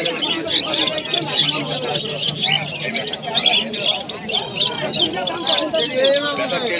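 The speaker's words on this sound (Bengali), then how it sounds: "এই যে মানে পাখি যেগুলো ককটেল, বুদ্ধে পাখি, নানা রকমের এই যে পাখি আছে।" Many cockatiels and budgerigars chirping and chattering continuously, close by, amid a busy market crowd with people talking in the background.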